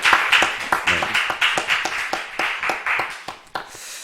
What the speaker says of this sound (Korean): 우리 박수로 하나님 앞에 영광을 돌리겠습니다